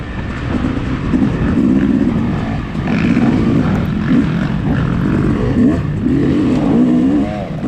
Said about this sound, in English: I got somebody revving out behind me already.